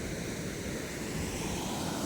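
A flooded river, running full after heavy rain, rushes past as a continuous broadband roar, steady and fairly close with no voices.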